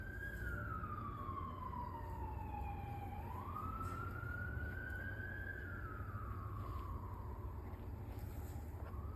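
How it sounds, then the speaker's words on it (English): A wailing siren sweeps slowly down and up in pitch over steady low traffic rumble, sounding from some distance away. "Can you hear the sirens?"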